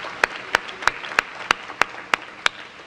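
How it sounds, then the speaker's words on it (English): Evenly spaced sharp claps repeat about every third of a second, a steady rhythmic clapping at a mayor's library event rather than a full crowd roar, with no voices over it. "Let's give them another round of applause."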